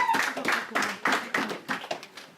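Church congregation clapping to acclaim the Lord, a series of sharp, fairly quick handclaps from a group in a loose steady rhythm, close and clear with no talk over them.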